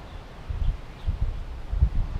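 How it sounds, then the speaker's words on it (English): Wind blows outdoors in a front yard in Thailand, buffeting the microphone in low, rumbling gusts that rise and fall about three times in quick succession. "So sorry about the wind."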